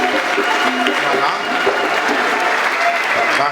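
A church congregation at a first Mass claps steadily and loudly throughout, dense continuous applause with faint voices mixed underneath.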